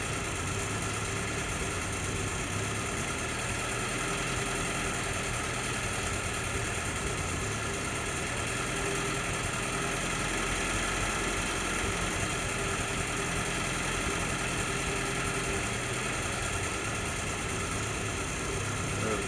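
An M38A1 jeep engine idles loud and close with no gas or choke applied, a steady mechanical drone and rumble with a slight rising and falling surge, heard alone without voices.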